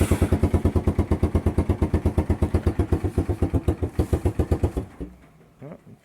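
A cold engine chugs in a steady, fast pulsing beat close by, then cuts out around the five-second mark, leaving a few faint sputters and near silence.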